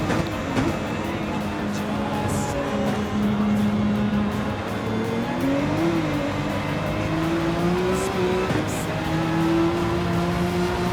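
Race car engines drone steadily in Gran Turismo 7 during a Manufacturers Cup race, a continuous loud tone that shifts pitch with gear changes and acceleration, with no talk over it.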